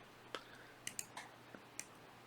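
Several crisp, quiet computer mouse clicks sound at irregular moments, single sharp ticks close up against a faint room hum.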